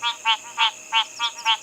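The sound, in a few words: frogs calling at a dam at dusk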